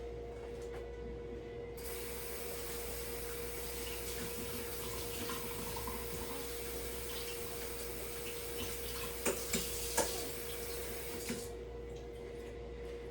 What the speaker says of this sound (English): put the rice in my strainer like so, and I'm going to go ahead and give it a quick rinse